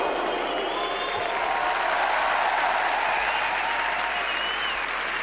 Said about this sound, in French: ils l'applaudissent quand même quand il sort